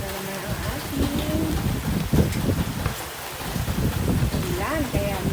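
Heavy rain pours down in a steady broadband wash, loud and close, while someone talks over it and kitchen clatter comes through now and then.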